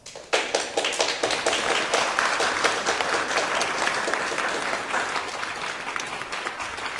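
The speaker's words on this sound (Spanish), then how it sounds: "Recibamos con fuertes palmas" Steady applause from an audience at a technical conference on marine geology in Peru, dense clapping filling the room and holding at an even level for several seconds before easing slightly.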